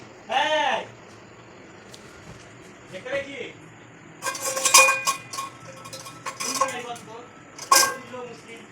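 A spoon scrapes and clinks against a metal pan while chili, bay leaf and cumin temper in oil, with irregular close metallic knocks alongside a speaking voice.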